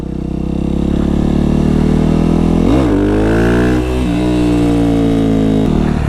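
A Yamaha WR450 dirt bike engine roars loud and close while riding, holding a steady drone before a sharp throttle blip and rising rev around the middle, then settling back.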